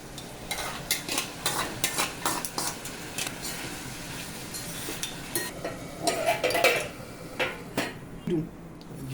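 Potatoes go into a pan with pure ghee and ivy gourd and are stirred, giving scraping and clinking of a utensil against the pan, uneven taps and clatters over a faint sizzle, close by.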